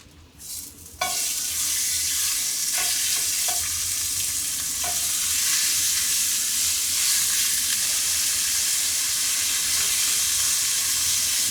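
Chicken pieces sizzle steadily in a hot pan while camping in a van in Monterey, a loud continuous frying hiss starting abruptly after a brief quiet moment, with a few faint clicks.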